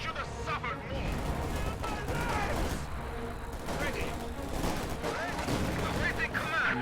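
Sustained gunfire on infantry squads in a World War II strategy game, rattling volleys and scattered shots layered with battle noise, moderately distant and steady throughout, under a commentator's voice.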